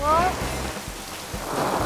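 Heavy rain falls outdoors as a dense, continuous hiss with low rumbling beneath it, briefly accompanied by a voice at the start.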